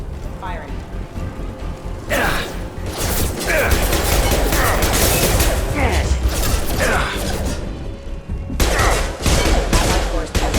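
Gunfire rattles in the video game Mass Effect, with repeated bursts of shots and mechanical clatter that is loud and close, partly under voice lines.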